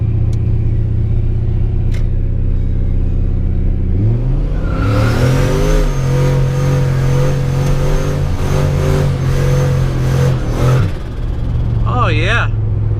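A Chevrolet Colorado truck on 29-inch tires running about 5 psi of turbo boost idles with a low rumble, then surges into a rising, revving acceleration that holds for several seconds before dropping off, loud and close, with a brief whistling sound near the end.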